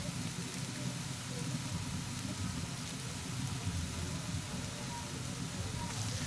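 Onions frying in a pan for potato chilli give a steady, continuous sizzle and crackle, fairly loud and even throughout with no pauses.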